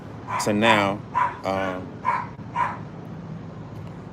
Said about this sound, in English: wow, that's my dog.